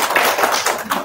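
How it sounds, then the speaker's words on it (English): Audience applause at a human rights meeting on the Tai Ji Men case, a dense, steady wash of many hands clapping throughout, fairly loud with no voices over it. "So a big round of applause to you all."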